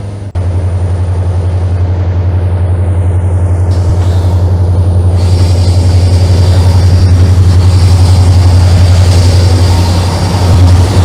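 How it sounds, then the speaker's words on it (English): Freight trains in the Trainz railway simulator derailing at a glitching portal give a loud, steady low rumble of heavy rolling stock and engine drone, with a faint high whine early on. "I'm having a bit of a problem with trains derailing in the portal"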